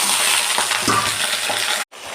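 Oil sizzles loudly and evenly as a tempering of peanuts, garlic and dried red chillies fries in a pan, with faint stirring crackles and a brief break in the sound near the end.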